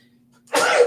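A single short, sharp sneeze bursts out after near silence, close and loud, lasting about half a second and trailing off quickly.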